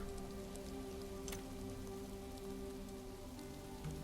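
Steady rain patters on surfaces in the survival game Soul Mask, a dense, continuous hiss of drops close by with no voices over it.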